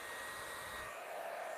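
A handheld blow dryer runs steadily during a salon-style blowout styling session, giving a continuous close airy whoosh with a faint high whine, level throughout the short stretch with no talking.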